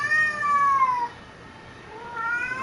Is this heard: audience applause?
no